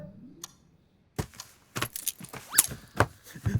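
A bunch of vehicle keys jangles indoors in several short, scattered metallic bursts, fairly faint and close, with small clinks and rattles separated by brief quiet gaps.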